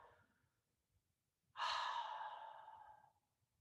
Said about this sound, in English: Take big breaths in and out.